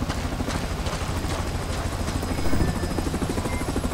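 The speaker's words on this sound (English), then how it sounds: "Chopper inbound to pull you out." Helicopter arriving for extraction in the Splinter Cell Blacklist video game, a steady loud rotor thump and engine drone that holds throughout with a slight swell midway, and no talk.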